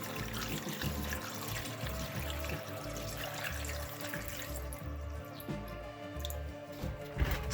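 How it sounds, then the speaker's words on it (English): Water is poured into a rock tumbler jar filled with rocks, giving a steady, faint splashing and trickling wash across the whole stretch, with no voices. "I've got some water here and I'm going to fill that up just to the top of the rocks"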